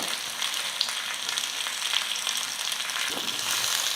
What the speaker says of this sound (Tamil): எண்ணெயில் வந்து நல்லா ஒரு நிமிஷத்துக்கு நல்லா வறுத்துக்கிட்டேன்